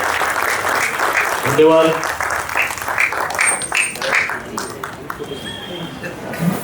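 At the inauguration of the sixth National Short Film Festival, an audience claps steadily throughout, with a speaker's voice and scattered sharp claps over the crowd's applause.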